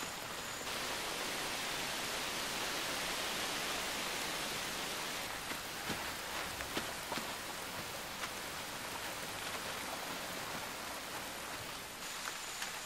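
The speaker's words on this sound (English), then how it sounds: "The rains continue for weeks." Steady rain pours down in a Brazilian forest during the wet season, a dense unbroken hiss with occasional louder drips and splashes standing out, heard alone with no voices.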